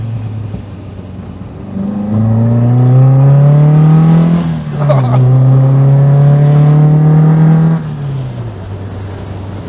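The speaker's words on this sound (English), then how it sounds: "Got the exhaust popping under deceleration." A modified MGB sports car driving on the road, its engine droning loud and close as it rises and falls, with the exhaust crackling and popping briefly on deceleration.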